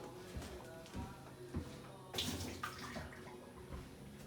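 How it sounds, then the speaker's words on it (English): Water is poured out of a glass coffee decanter used for V60 pour-over brewing, a short splashing gush into a sink among small clinks, fairly quiet. "And of course, we're dumping out that water."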